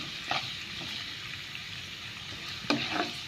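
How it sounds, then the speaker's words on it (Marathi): Ginger, garlic and green chillies frying in a pan for egg chilli, a soft continuous sizzle broken by a few sharp clicks and scrapes of a spoon, close and moderately quiet, with no voices. "आलें आनी लसूण जालें भाजून आनी मिरसांग त्यो हांवें पियाव कातरलो न्हू क्युब्स ते घातां फ्राय जावपाक."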